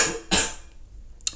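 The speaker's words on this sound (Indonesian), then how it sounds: "Maaf saya lagi batuk" Two short, sharp coughs from one person at close range, the first strong and the second briefer, separated by near silence.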